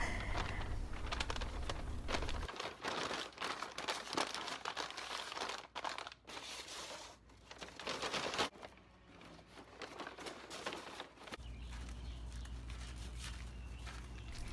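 Paper bags are crumpled and gathered up for recycling, giving a long run of close, crinkling rustles with brief pauses, some footstep-like shuffles and no talking.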